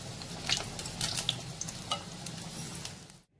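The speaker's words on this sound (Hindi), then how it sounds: "चलिए आप इसे फ्राई करते हैं।" Katori chaat cups frying in hot oil, a steady close sizzle with a few sharper crackles and pops, cutting off abruptly near the end.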